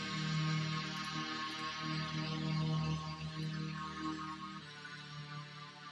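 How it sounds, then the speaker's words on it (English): Vector pad synth in a beat, a steady sustained chordal tone with rich layered harmonics, held softly and continuously with a slight shift in colour near the end. "in pattern 3 we just made the vector pad, and the vector pad sounds like this."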